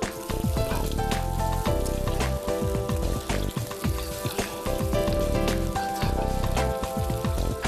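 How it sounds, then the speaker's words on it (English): Whole garlic heads sizzle in oil in a pot of Uzbek pilaf, giving a steady, loud frying hiss with a constant crackle and no voices. "We're adding the whole garlic heads and dip them a little in the cooking pot."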